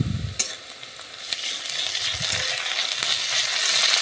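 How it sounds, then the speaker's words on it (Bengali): Onion and ginger paste fry in a pan with a continuous close sizzle, broken by a few sharp spatula clicks and scrapes, and the hiss grows slightly fuller toward the end. "আদাটা একটু ভেজে নিচ্ছি"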